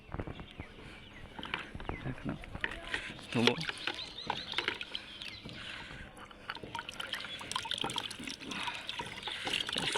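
Paint brushes are rinsed and swished in water, with irregular splashing and trickling close by while someone talks over it.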